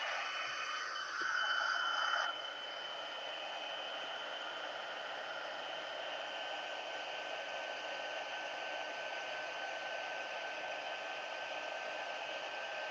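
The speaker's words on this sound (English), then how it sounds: "And then we're going to grab our heat tool." A crafting heat tool whirs and hisses at a steady, faint level as it heat-sets embossing on a stamped card, a continuous airy blow running through the whole stretch.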